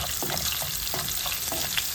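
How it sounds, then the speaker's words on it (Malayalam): Turmeric, asafoetida, fenugreek powder and salt fry in oil in a pan for a Kerala prawn and bilimbi pickle, a steady sizzle under soft scraping strokes of stirring, close up. "എല്ലാത്തിൻ്റെ പച്ചമണം ഒന്ന് മാറട്ടെ. അതുവരെ നമുക്കൊന്ന് ഇളക്കി കൊടുക്കാം."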